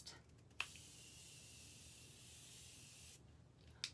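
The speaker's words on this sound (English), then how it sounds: "I'm going to use my Morphe setting spray because this one is honestly my favorite." Morphe setting spray mists out in one sustained, fine hiss lasting a few seconds, bracketed by light clicks of the nozzle, close and quiet with no talking.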